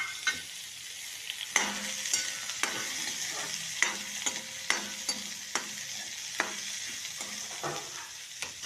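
Finely chopped onion fries for tomato chutney, a soft sizzle broken by regular sharp spatula scrapes and taps against the pan, close and rhythmic.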